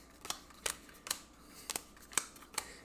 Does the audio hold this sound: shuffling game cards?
yes